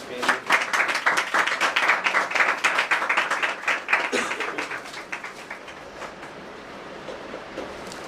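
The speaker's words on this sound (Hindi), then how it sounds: "बजाओ ताली।" A congregation in an Indore prayer hall claps in rapid, rhythmic unison, loud and dense at first, then thinning and fading toward the end.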